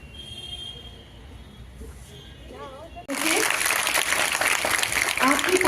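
Applause from a school audience welcoming guests, swelling suddenly after a quieter stretch of faint talk and continuing loudly to the end.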